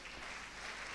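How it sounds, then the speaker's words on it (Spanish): A church congregation breaks into brief, even applause, a soft wash of many hands clapping for under a second. "Dale un aplauso al Señor."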